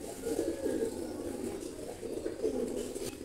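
Pigeons coo steadily and close by for the whole stretch, a low rolling warble in repeated bursts. They are large, strong-flying running pigeons kept in a coop, and the calls come with no talk over them.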